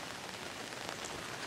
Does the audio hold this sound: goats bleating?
no